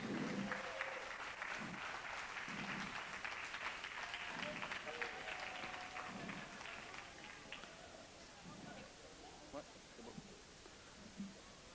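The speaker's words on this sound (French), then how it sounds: "Oui, on peut les applaudir" Audience applause at a French community gathering as a team is called up, a broad steady patter of many hands sustained throughout at moderate distance, with some voices mixed in.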